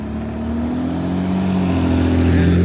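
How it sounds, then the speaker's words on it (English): A car approaches fast on a New York street, its engine drone rising and shifting in pitch as it nears, loud and close, heard without any talking. "Oh, car coming fast."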